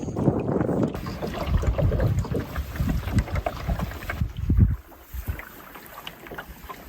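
A canoe is paddled along a tributary in the Ottawa National Forest, with soft splashes and water sloshing against the hull close by and light wind rumble on the microphone.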